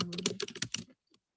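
Rapid typing on a computer keyboard, a dense burst of close clicking keystrokes for under a second, then a lone faint tap after a short pause.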